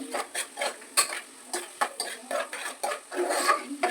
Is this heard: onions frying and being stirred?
yes